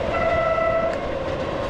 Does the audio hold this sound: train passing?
yes